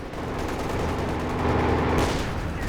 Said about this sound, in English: Katyusha barrage